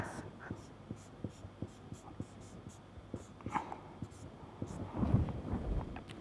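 Chalk or a marker taps and scrapes across a board while an equation is written during a lecture on the Jacobi and Gauss-Seidel methods, giving a steady series of faint, sharp ticks under low room noise.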